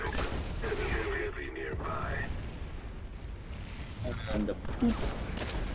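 Gunfire in the online shooter Planetside 2, bursts of weapon fire and booms through a chaotic firefight, with a player talking over much of it.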